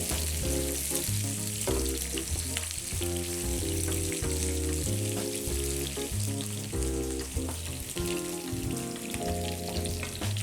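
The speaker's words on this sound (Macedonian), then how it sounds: "Само благо пропржете го, витинот е многу врел." Vegetables, including young onion, stir-fry in a very hot wok for Chinese-style fried rice with scrambled egg, giving a continuous close sizzle over a steady tonal background, with no voices.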